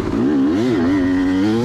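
A 2004 Kawasaki KX250 two-stroke dirt bike engine runs close by with a raspy, buzzing tone, its revs rising and dipping in quick wavering blips before holding steady.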